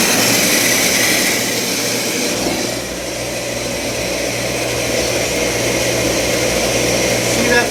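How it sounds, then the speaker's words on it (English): A Speed Queen gas dryer runs in a laundromat with a worn bearing, giving a loud, steady mechanical roar and hum throughout, constant and close with no pauses. "That's dryer's making a bearing noise on its own."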